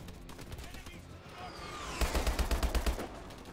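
Rapid gunfire in the shooter Call of Duty: Advanced Warfare during a naval mission aboard an armada ship, an automatic burst of evenly spaced loud shots following a descending whine and scattered earlier fire, with a voice talking beneath.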